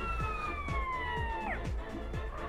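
Police siren in a GTA criminal role-play video game, a loud wailing two-tone sweep that drops sharply midway, over a pulsing engine rumble and thumping beats, with no talking.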